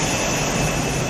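A stealth aircraft's jet engine roars as a steady, loud broadband rumble and hiss, filling the whole short stretch with no breaks or voices.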